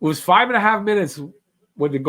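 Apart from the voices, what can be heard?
No distinct noise like a dog, phone or traffic.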